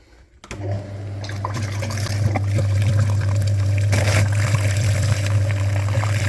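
A flushing machine pumps water through the dirty cooling system of a Daewoo Lanos or ZAZ Sens, with a separate hookup to the heater core. A steady, loud low pump hum starts after a brief moment of quiet and runs under continuous watery rushing.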